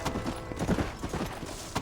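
Horse hooves clip-clopping in the Western video game Red Dead Redemption, a quick irregular run of close, fairly loud hoof falls lasting under two seconds.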